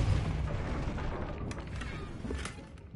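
A Depulso spell is cast in Hogwarts Legacy, a dull, forceful whooshing thump with low rumble, followed by a couple of sharp crackling bursts as it fades.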